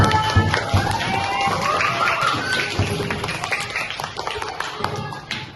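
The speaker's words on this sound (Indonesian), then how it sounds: "Beri tepuk tangan dulu buat semua kelompok." A classroom group gives applause for all the teams, a dense burst of hand clapping from many people that runs steadily and slowly thins out, with some voices mixed in.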